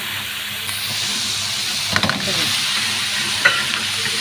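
Minced meat with bell pepper frying in a pan, a steady close hiss and sizzle with a few spatula scrapes and taps over it, no talk.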